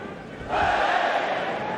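An arena crowd at a Pride MMA fight surges from a murmur into a steady, loud cheering roar that holds to the end.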